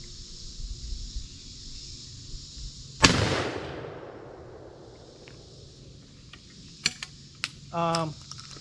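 A 20 gauge Cooey single-shot shotgun fires once outdoors at a small can, a loud sharp blast with a long fading echo, followed later by a few faint clicks of handling and a brief voice.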